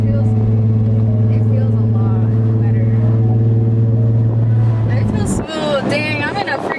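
A Infiniti G35 engine runs steadily with a low, even hum for several seconds after a valve cover replacement, then cuts off and a person starts talking.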